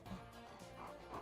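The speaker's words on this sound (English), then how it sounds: "And Muffin is going to be a golden retriever." A golden retriever in The Sims 4 gives a few faint, quick yips and barks over a soft, steady game background.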